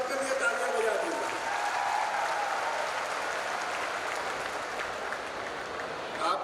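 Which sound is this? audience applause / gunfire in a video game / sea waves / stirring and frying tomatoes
audience applause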